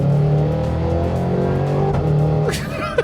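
A 2025 Cadillac Escalade V's 682-horsepower V8 engine revs loudly up close as it accelerates, a sustained rising roar with steady low tones, ending with a brief tire chirp.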